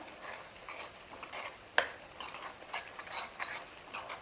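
Tomato rasam with rasam powder being stirred in a pot, a spoon scraping and clinking against the metal in an uneven rhythm of short strokes, close and fairly quiet, with no voices.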